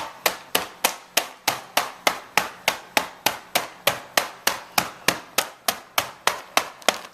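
Pecans being pounded to crack them, using a makeshift tool rather than a hammer: about twenty sharp, evenly spaced knocks, roughly three per second, close and steady, with no talking.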